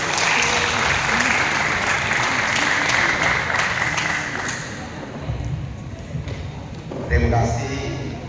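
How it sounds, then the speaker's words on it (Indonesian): Steady crowd applause from schoolchildren fills the room for several seconds, then fades into scattered claps and a few thumps as the clapping dies down. "Kita kasih tepuk tangan buat beliau."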